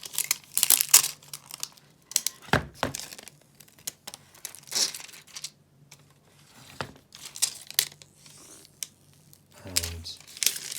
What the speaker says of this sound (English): Peeling that plastic back. There's something quite satisfying about that noise.